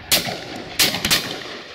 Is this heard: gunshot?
yes